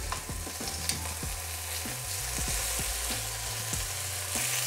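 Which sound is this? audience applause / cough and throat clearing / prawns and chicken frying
prawns and chicken frying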